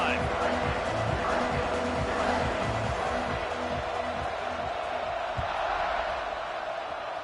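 A stadium crowd at a Clemson vs South Carolina football game roars in a steady, dense wash of cheering that stays loud throughout, with a commentator talking over it.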